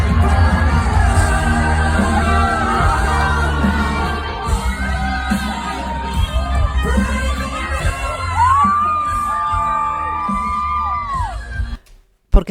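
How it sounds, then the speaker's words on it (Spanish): A concert audience screams and cheers loudly and continuously, with high-pitched whoops and shouts rising over the crowd noise before the sound cuts off abruptly near the end. "Porque están gritando las que están aquí."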